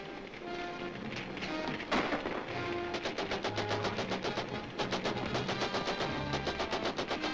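Rapid bursts of gunfire crackle in a dense, continuous volley, loud and sustained over a rumbling backdrop with no voices.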